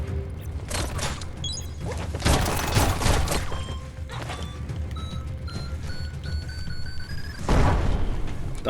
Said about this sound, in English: Yeah, he threw a grenade.